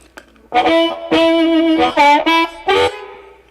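A distorted, amplified harmonica through a NuX B-5RC wireless system and amp simulator plays a few sustained chords and bends in short bursts, gritty and close, with no voices.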